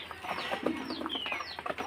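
Chicks of a backyard flock in a home yard, fed paddy, give busy overlapping clucks and high chirps close by. The calls come steadily for about two seconds, with no talk.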